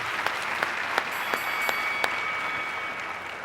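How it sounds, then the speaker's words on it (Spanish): Moderate applause from an audience at a conference debate on drug legalization, a dense patter of clapping with a few sharper claps standing out, steady for several seconds. "Bravo, un aplauso."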